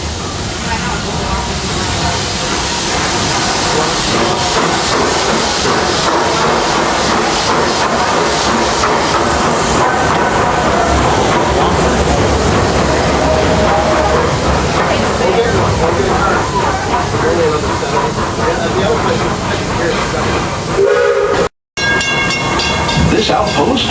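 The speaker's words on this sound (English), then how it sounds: "Nothing like a nice train ride" Passenger train ride at a Disney park, with steady loud rail rumble and clatter filling the whole span, a brief cutout near the end, and people talking faintly under the noise.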